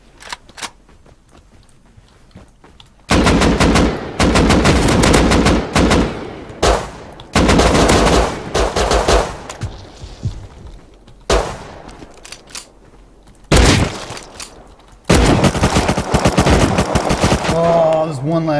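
Gunfire erupts in the video game Rust in loud, dense bursts of rapid automatic shots separated by short pauses, with single shots among them. The firing is close and harsh.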